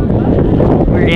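Strong coastal wind buffets and rumbles across the microphone on a beach at the Outer Banks during a kiteboarding session, a steady loud low roar throughout.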